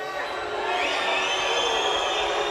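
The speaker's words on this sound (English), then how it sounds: "The crowd's booing" Spectators at a world fencing championship sabre team final in Budapest: a sustained, dense roar of crowd voices, steady and loud, with a slight swell partway through.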